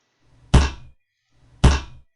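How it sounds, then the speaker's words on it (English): Axe blade striking wood as a game sound effect: two sharp, heavy thunks about a second apart, each with a brief woody decay, clean and close with no talk. "that's the sound of the axe when it hits the wood"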